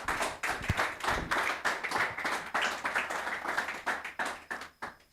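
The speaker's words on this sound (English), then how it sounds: "So a round of applause for Maxwell." An audience at a business club launch event in Nigeria claps steadily for a speaker, a dense, continuous round of hand clapping that stays level before tapering off.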